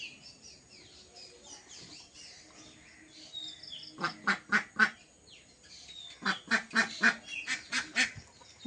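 Ducks at home, recently recovered from illness, let out rapid bursts of loud quacking in two clustered runs after a quiet stretch with faint background sounds.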